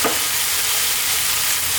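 Lamb tibs fry with Ethiopian spiced butter (kibe) in a pan, giving a loud, dense, even sizzle that holds without a break and with no voices.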